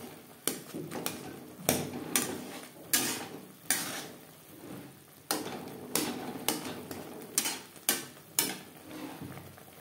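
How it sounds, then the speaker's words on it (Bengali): Boiled raw mango cooked with sugar is mashed in a pot, giving repeated clanking, scraping utensil strikes in an irregular rhythm, close and fairly clear. "আম বেশ ভালো করে ম্যাশ করে নিয়েছি।"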